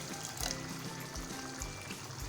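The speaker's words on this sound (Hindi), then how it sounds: "अब हम इसमें पानी ऐड कर देंगे।" Water pours steadily into a pan of Hyderabadi chicken curry as a soft, continuous trickle, faint and close, with no talk over it.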